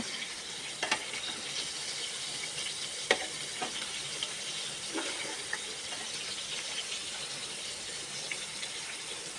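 Sliced pointed gourd (potol) fries in a pan with a steady, close sizzle, broken by a few light clicks as the slices are flipped.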